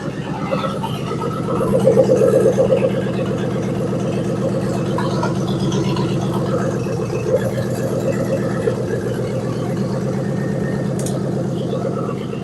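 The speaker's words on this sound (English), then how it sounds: "That thing runs smooth. I mean, it rattles. It don't smoke." Junkyard-rescued police car engine idling, a steady low rhythmic rumble with slight rattle, briefly swelling louder early on before settling into an even idle, close and continuous.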